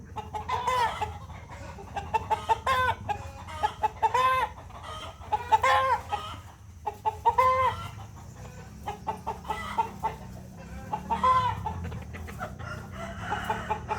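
Burmese chickens, nearly four months old, cluck steadily in a busy flock while eating, with occasional louder calls and a distant rooster crow, over constant barnyard background noise.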